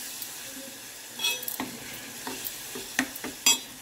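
Fenugreek leaves and soya chunks frying in oil in a pan, soft sizzling under repeated scraping stirs and light clinks of a spatula against the pan, close and moderate.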